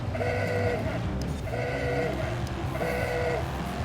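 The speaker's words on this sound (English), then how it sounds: "By the way, I got a new horn." An aooga horn on a 1934 Alfa Romeo P3 in a racing video game: three rising, honking blasts repeat at even intervals over a constant loud engine rumble.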